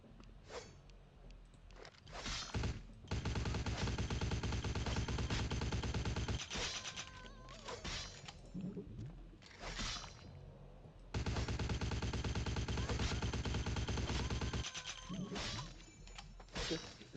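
Automatic gunfire in the video game Vampire: The Masquerade – Bloodlines, set in Hollywood by night: two long, loud, sustained bursts of rapid shots, separated by shorter bangs and impact crunches, with no talking.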